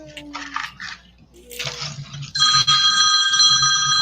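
A phone rings with steady bright electronic tones for the last couple of seconds, preceded by clattering and rustling handling noises close by.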